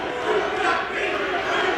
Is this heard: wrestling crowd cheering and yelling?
yes